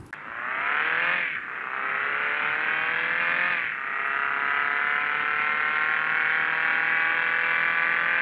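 A modded car engine in the Bus Simulator Indonesia driving game revs up smoothly, shifts gears twice and then holds a steady loud whine as it cruises.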